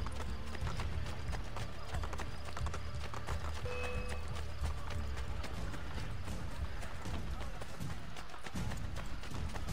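Rapid clip-clop of horse hooves at a gallop in Assassin's Creed Brotherhood, steady and close, with busy background noise and faint voices mixed in.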